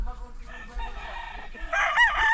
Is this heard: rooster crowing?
yes